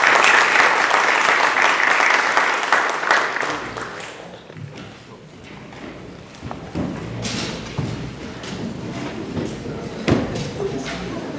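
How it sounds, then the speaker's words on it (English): Audience applause closing a conference session on the balanced budget rule, dense clapping loud at first, thinning into scattered claps and room noise, with a brief voice. "vous demander à tous d'applaudir Simina qui a fait un très beau travail"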